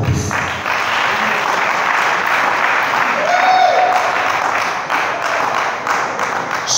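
Dense, loud applause from an audience at a boxing-related sports federation ceremony in Ouidah, Benin, a continuous wash of clapping hands sustained throughout, with a brief faint voice or whistle rising partway through.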